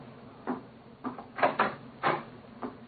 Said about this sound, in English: Mrs. Hudson's opening the door to him now.